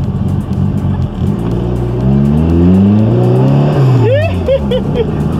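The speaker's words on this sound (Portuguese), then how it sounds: "Olha o assobiozão aí do Turbo." A Hofstetter sports car accelerates with a rising engine note and a loud turbo whistle, close and steady, before easing off with a sharp whistling spool-down; a person speaks briefly over it.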